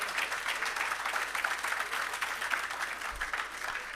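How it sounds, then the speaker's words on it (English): Applause from the audience at the commissioning and launch of an irrigation system and agro park, a steady dense wash of many hands clapping that holds for the whole span without breaking off. "That deserves a big round of applause."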